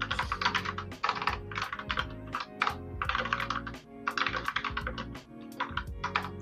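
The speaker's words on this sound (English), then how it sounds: "That poor keyboard is taking an absolute beat down right now." Computer keyboard hammered hard during a heads-up game, rapid loud clattering bursts of keystrokes in quick clusters with short pauses, close and forceful.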